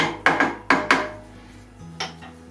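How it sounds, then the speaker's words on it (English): Metal spoon or utensil knocking against a pot of salted water heating toward the boil on a kamado grill, several sharp clinks in quick pairs followed by a softer knock, close and clear with no talking. "Give that a stir."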